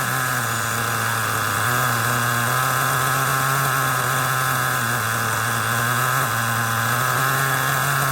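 An Alpha .28 nitro engine idles during break-in, running rich with the low-speed needle richened, a loud steady buzzing drone held close and unbroken throughout with no talk.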